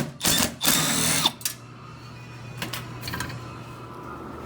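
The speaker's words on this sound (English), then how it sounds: "I got an extension on my impact with a number 3 Phillips. It'll reach right down in there. Get those right out of there." An impact driver with an extension and a number 3 Phillips bit backs out screws in two or three loud, buzzing bursts close by, followed by quieter fumbling and a low steady hum.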